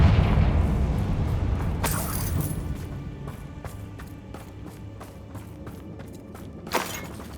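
A Confringo fire spell bursts in Hogwarts Legacy, a deep booming explosion that rumbles loudly at first and slowly fades, followed by scattered thuds and a sharp crackling burst near the end.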